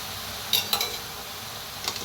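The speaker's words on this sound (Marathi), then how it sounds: "आता मस्त भाजीला मिक्स करायचं" A spoon stirs a vegetable dish of fresh peas and green chili–garlic paste in a pan, with a few sharp metallic scrapes and clinks over a soft, steady sizzle.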